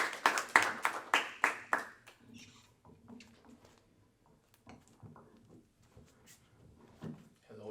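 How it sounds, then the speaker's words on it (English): Hands clap at an evening spiritual talk, with about seven sharp, evenly spaced claps close by for two seconds, then the room falls quiet with only faint shuffles and small knocks. "So let's give a big round of applause for Matanga."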